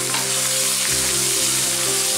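Tomatoes sauté in sunflower oil for a vegetable biryani, giving a steady, close, dense sizzle that holds evenly for the whole stretch with no voices.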